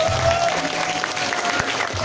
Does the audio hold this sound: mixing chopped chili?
no